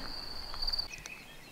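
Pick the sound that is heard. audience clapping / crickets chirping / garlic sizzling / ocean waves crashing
crickets chirping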